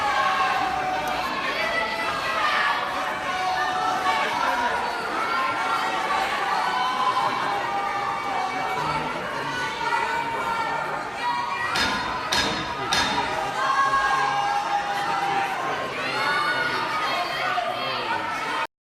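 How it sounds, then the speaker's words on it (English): Protesters against a bill ending non-medical vaccination exemptions shouting from the New York State Assembly gallery, a dense continuous crowd roar of overlapping angry voices with a few sharp thumps partway through. "Opponents of the legislation ending non-medical exemptions for vaccination shouting from the State Assembly gallery, "Shame!" and other profanities."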